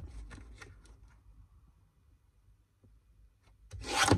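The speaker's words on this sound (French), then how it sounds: "Je reprends ma petite découpeuse et je découpe." A small paper cutter slicing card, a few sharp close clicks and scrapes at the start, a quiet stretch, then a louder burst of cutting and sliding at the end, with no talking.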